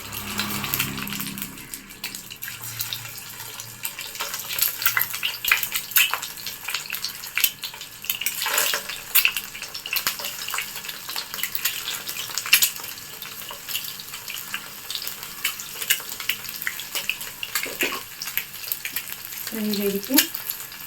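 Four boiled eggs frying in about a tablespoon of oil on a hot tawa: a continuous crackling sizzle with occasional sharp pops and clinks, close by and without speech.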